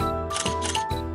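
Two quick mechanical clicks of a camera shutter sound close up, one after the other, over a steady low hum.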